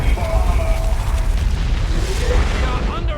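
An orbital bombardment in Warhammer 40,000: Dawn of War 2 lands as a deep, rumbling boom that rolls on for several seconds under a commentator's voice.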